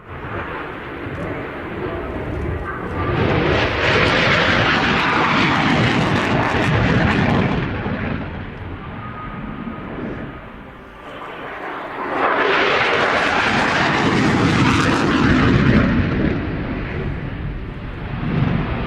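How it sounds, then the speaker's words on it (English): A Polish Air Force F-16 fighter jet roars past loudly in two long swelling passes, the engine rising to a thunderous peak, fading, then surging again. "the Tiger Demo team from the Polish Air Force with this fantastic F-16"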